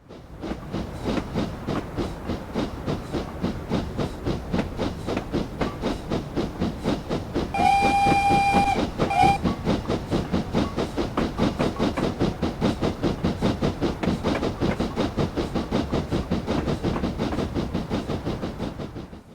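A steam locomotive on the Somerset & Dorset Railway in Train Simulator chuffs in a fast, steady rhythm of exhaust beats. A shrill whistle sounds twice midway over the continuous rumbling chuffs.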